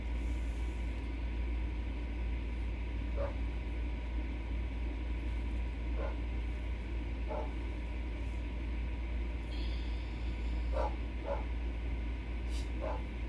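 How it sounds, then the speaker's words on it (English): A dog barks in short, scattered bursts, a few sharp yaps spaced several seconds apart over a steady low hum, fairly distant and soft. "I don't know what you're barking at."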